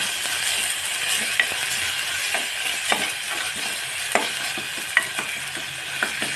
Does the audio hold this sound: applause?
no